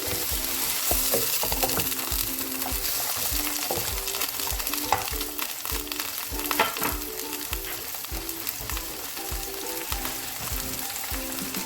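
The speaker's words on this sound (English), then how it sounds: "Fry the onions for about 2 minutes." Onions fry in a little oil in a pan, a dense, steady sizzle heard close up with frequent stirring clicks and scrapes throughout, no voices.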